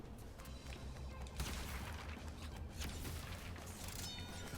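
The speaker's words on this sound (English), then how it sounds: "I'm gonna keep shooting these boxes because they keep giving me lives" Dense, continuous game soundtrack of rapid shooting and breaking crates in Crash Bandicoot 4 It's About Time, layered gunfire-like bursts and mechanical clatter over music, steady and moderately loud throughout.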